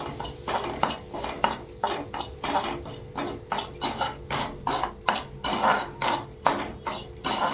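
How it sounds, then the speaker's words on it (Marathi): Semolina being roasted in ghee in a pan, heard as a quick rhythmic scraping and clinking of a spoon against the metal pan, repeating close and steady about twice a second over a faint sizzle. "रवा जरा भाजून घ्यायचा तुपात."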